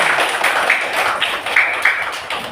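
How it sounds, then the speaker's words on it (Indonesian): A class of children clapping in a classroom: a continuous patter of many small hands, moderately loud and close, with a few brighter voices cutting through. "tepuk tangan untuk kita semua"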